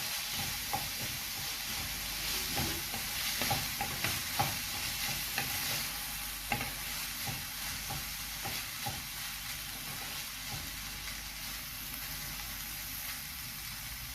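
Cheese corn poha with tomato chili sauce stirred in a hot pan, a steady sizzle and hiss under repeated scraping strokes of a spoon, close and continuous with no talk.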